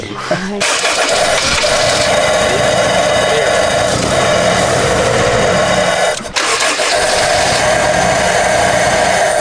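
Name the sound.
forged car engine running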